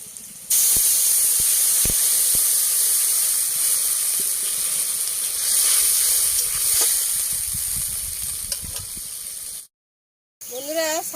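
Water hits a pan of frying onions and erupts into a loud, steady steaming sizzle close by. The hiss holds for several seconds with a few clicks and bumps, then briefly cuts out before resuming.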